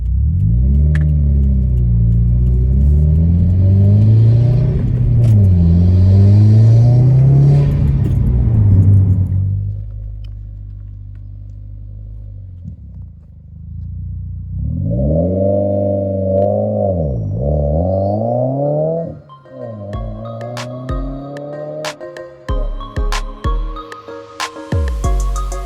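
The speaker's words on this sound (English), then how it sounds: "I'm about to do another third gear pull data log" A tuned car with a Stage 2 Plus tune, TMIC and CP on 91-octane fuel pulls hard through third gear, its engine note climbing loud and steady, then easing off before further revving bursts and sharp pops toward the end.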